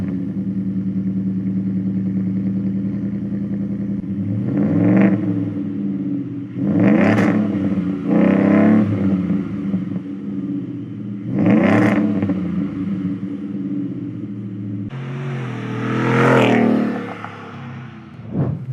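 A Ford street truck with a Roush catback exhaust idles with a steady low rumble, then is revved several times in sharp rising bursts, the last one longer and harsher, loud and close.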